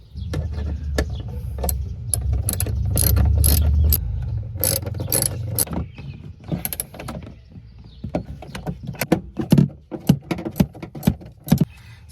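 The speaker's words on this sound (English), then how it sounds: "just put the 4 nuts back in and start wrenching them in" Wrench ratcheting the four nuts back onto an s550-style tail light installed on a New Edge Mustang, a string of sharp metallic clicks and clatter in quick irregular bursts, close and fairly loud, with no talking.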